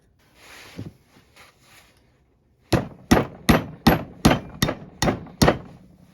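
Eight sharp metallic hammer strikes on a small flathead screwdriver against a Ford Mondeo Mk3 brake caliper housing ring out in a steady rhythm, each a crisp clang, following a few soft shuffling sounds.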